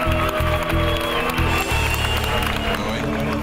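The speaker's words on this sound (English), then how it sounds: "Encore un tonnerre d'applaudissements pour le Canada." Crowd at a fireworks competition cheers and applauds, a loud, dense roar of clapping and voices mixed with low rumbling background noise, brief.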